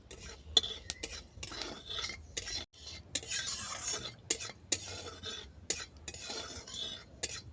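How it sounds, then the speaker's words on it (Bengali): Black cumin seeds frying in mustard oil in a wok, heard as a steady close crackle and hiss broken by repeated sharp scrapes and clinks of a stirring utensil against the pan. "দেখো কালো জিরেগুলো ভাজা হয়ে গেছে"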